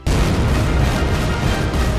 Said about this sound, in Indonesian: Gedung parlemen runtuh dalam cahaya kembang api